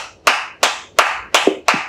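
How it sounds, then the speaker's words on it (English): Claps ring out at an online public speaking championship, about six sharp separate hand claps spaced evenly. They sound close and isolated, like a single person clapping rather than a crowd. "please give you a huge round of applause once more for Mr."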